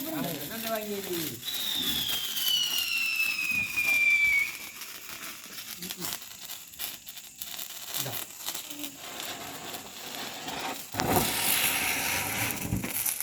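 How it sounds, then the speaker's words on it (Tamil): Deepavali firecrackers and rockets go off outdoors, with a rising whistle, sharp crackling pops and a big burst near the end, while people talk in the background. "இதெல்லாம் பட்டாசு வெடிக்கிறாங்க"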